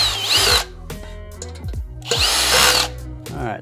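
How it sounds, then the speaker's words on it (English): A cordless drill whines in two short high bursts as it drives screws, with clicks and handling noises in the gaps, very close. "Then you can either take a cordless drill"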